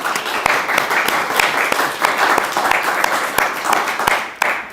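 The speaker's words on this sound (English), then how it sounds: "So give him a big applause." An audience claps and applauds steadily for several seconds, a dense, lively wash of many hands with a few sharper individual claps standing out.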